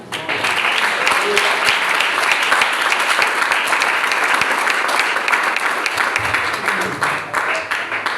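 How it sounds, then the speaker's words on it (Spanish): A church congregation claps loudly and continuously, dense sustained applause filling the space from start to finish. "Fuerte aplauso para el Señor."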